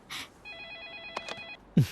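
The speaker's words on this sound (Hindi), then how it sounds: "आपका फोन बज रहा है।" A telephone in a school's Thai language department rings with a steady electronic trill for about a second, between short bursts of other noise.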